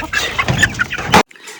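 A sitting hen on a small egg-keeping farm clucks close by in a quick run of loud, throaty clucks, then goes abruptly quiet.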